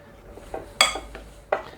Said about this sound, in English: I'm going to take my spoon and just start mixing this around to come up with a dough ball